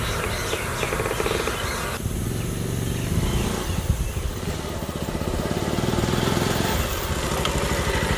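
A Bajaj Pulsar 220 motorcycle engine runs continuously close by, a loud, rough, throbbing drone that shifts in tone partway through and picks up near the end.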